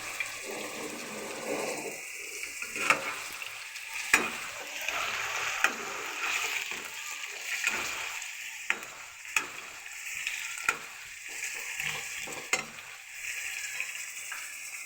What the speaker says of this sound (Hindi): प्याज को हमने ज़्यादा सा ब्राउन नहीं करना, लाइट सा कलर आ जाए